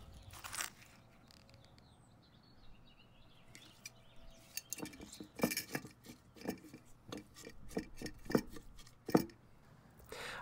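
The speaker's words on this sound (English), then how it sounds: "We'll start by adding some rocks and some sandy mud." Rocks and sandy mud dropped into a glass jar for a DIY ecosystem, giving a series of sharp clinks and gritty crunches, close and fairly quiet, with sparse hits early and denser clatter in the second half.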